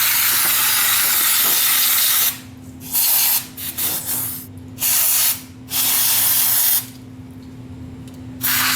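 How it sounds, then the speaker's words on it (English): Brake cleaner sprayed from an aerosol can onto a scooter's front brake rotor: several loud, close hissing bursts of a second or so each, separated by brief pauses, with no talking. "And then I'm going to spray my rotor."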